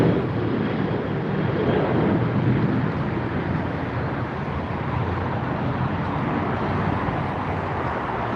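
A British Airways Boeing 777-300ER airliner arriving at LAX, a loud continuous broadband jet roar with low rumble that holds steady throughout, slightly swelling then easing, no voices.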